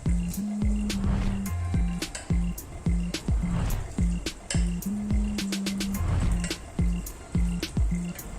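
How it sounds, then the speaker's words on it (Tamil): Syrup is poured over chocolate pudding batter in a pan, giving a quick run of wet drips and splashes in an uneven rhythm. The sounds are close and moderately loud. "இந்த நம்ம செஞ்சு வச்ச பேட்டர் மேலே இந்த சிரப் ஊற்றிட வேண்டியதான்"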